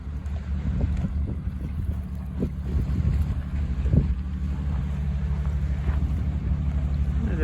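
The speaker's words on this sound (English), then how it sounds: "this massive paddle steamer is just going past" Large paddle steamer passing on the Murray River, a low steady rumble of engine and churning paddles with soft rhythmic thumps, heard from the bank amid wind noise.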